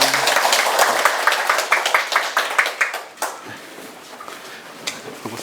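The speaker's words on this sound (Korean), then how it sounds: "한홍구 선생님을 박수로 맞이해 주시기 바랍니다." Audience applause welcoming a lecturer to an exhibition talk at the Seoul Museum of History: dense, steady clapping from a crowd that thins into scattered claps and fades after about three seconds.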